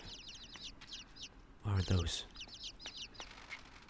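Birds in the game Inside give repeated short clucks, close and fairly quiet, in quick clusters over a low ambient hum, with a brief louder thump in the middle and a voice speaking over it.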